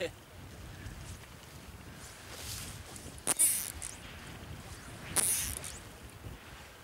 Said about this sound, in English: that's casting into about a 30-knot wind